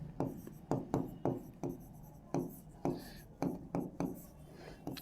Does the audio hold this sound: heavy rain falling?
no